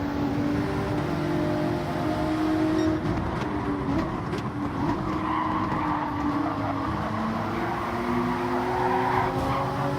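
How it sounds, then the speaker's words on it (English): A Gran Turismo 7 Gr.3 race car sliding sideways at Lago Maggiore, with a sustained tire skid over a steady engine drone, loud and continuous for about ten seconds. "That was the back end sliding."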